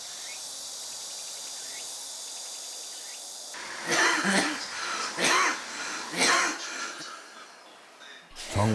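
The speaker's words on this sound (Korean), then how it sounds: "시도 때도 없는 기침." A late-stage lung cancer patient coughs in several harsh, close bursts after a stretch of steady insect-like chirping, with brief throat sounds and a voice nearby.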